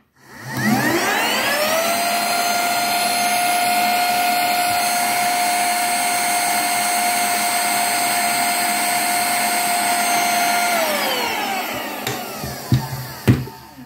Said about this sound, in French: je vais allumer l'aspirateur